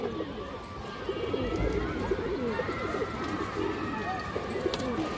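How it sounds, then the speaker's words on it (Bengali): A purple-necked male Bagan pigeon coos steadily, with soft repeated throaty calls running under the chatter of other birds and a mix of background voices in a busy loft or market. "একটা বাগান নর কবুতর আছে বেগুনি গলা বাগান নর"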